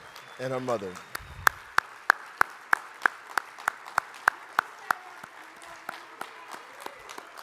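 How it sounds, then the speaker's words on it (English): After a brief voice at a conference closing plenary, applause for a 13-year-old contest winner follows as distinct, regularly spaced claps that ring out clearly and slowly thin toward the end. "can we give her a round of applause?"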